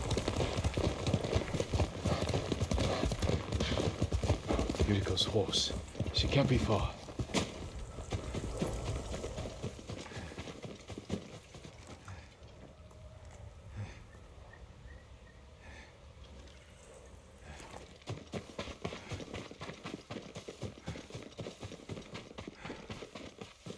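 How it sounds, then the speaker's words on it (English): Horse hooves clip-clopping in the video game Ghost of Tsushima, a brisk close rhythmic gait that slows and fades into quiet before resuming, with snorts and a brief spoken line. "Yuriko's horse."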